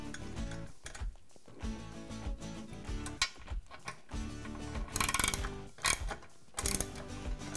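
Two nuts are fastened onto the bolts of a Rockwell BenchJaws vise, heard as close, uneven metallic clicking and ratcheting in short bursts with brief pauses between them.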